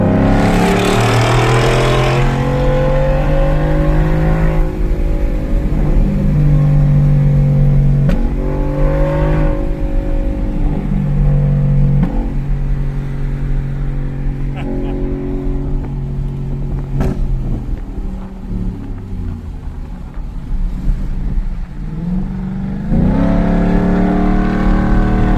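A race truck engine roars loud and close, revving up and down through repeated rising and falling pitch sweeps as it drives, a continuous heavy drone with no voices over it.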